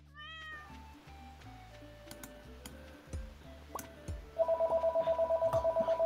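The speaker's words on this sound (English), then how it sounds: "The phone is ringing." A telephone rings in the farming game Stardew Valley: a steady, rapid electronic ring pulses loudly near the end, over soft game music and a brief meow-like cue.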